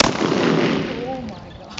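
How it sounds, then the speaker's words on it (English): A single loud shotgun blast rings out at close range outdoors, followed by a long, rolling echo that slowly fades. "first time shooting a shotgun"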